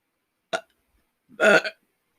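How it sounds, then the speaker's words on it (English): Two short throaty eruptions about a second apart, the second longer and louder, like burps, with no talking around them. "I'm so upset that I'm burping."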